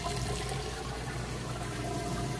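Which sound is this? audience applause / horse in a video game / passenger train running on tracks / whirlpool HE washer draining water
whirlpool HE washer draining water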